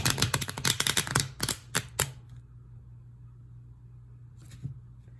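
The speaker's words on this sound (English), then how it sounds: "This action is what we call riffle shuffling." Tarot cards are riffle shuffled, making a rapid, loud flutter of crisp snapping clicks for about two seconds, then near silence with one faint tap and a low steady hum.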